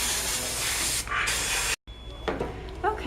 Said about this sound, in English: I'm going to take the water sprayer and spray out the mouth and get all that grit out of there